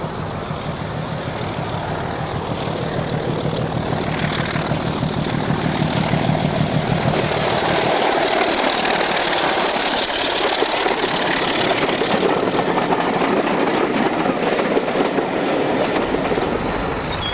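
Diesel locomotive D5054 rolls past Ewood Bridge with a loud, close engine drone and rhythmic wheel clatter over the rails, the sound shifting as the train goes by.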